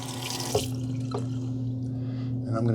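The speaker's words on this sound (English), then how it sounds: "I'm going to run it under some water," Tap water runs steadily over a Gillette Labs Heated Razor, Bugatti Limited Edition, in a sink: a continuous close splashing stream with a faint electrical hum beneath and a couple of small clicks.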